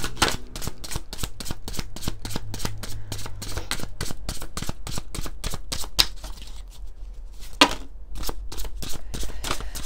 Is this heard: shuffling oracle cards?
yes